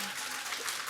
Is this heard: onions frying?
no